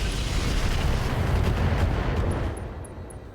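Heavy weapons fire from battling mechs in the RogueTech game, a sustained, loud barrage of booming explosions and gunfire rolling continuously before easing slightly toward the end.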